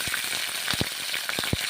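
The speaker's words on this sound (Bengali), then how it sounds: "তারপর রসুন কাঁচা লঙ্কা কড়াইয়ের মধ্যে ছেড়ে দিলাম।" Garlic and green chillies frying in mustard oil in a wok, a steady close sizzle with a few sharper pops and spits breaking through.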